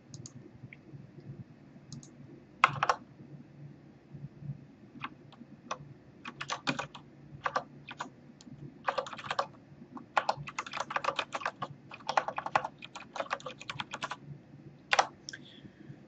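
Clattering keystrokes on a computer keyboard while editing in Emacs org mode, irregular bursts of quick clicks and single taps, close and crisp over a faint hum, no speech.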